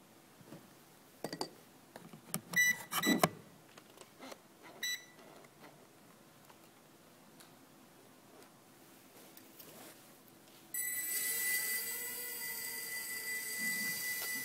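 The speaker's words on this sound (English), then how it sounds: "Here's a pilotless vehicle." A small pilotless drone flying indoors in a room: its rotors start with a sudden steady high-pitched whine and buzz that holds for the last few seconds, after some brief clicks and knocks.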